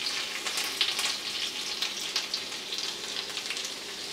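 Whole cumin, fennel seeds and chopped garlic frying in hot oil in a pan give a steady, crackling sizzle with small pops, close and continuous with no talk.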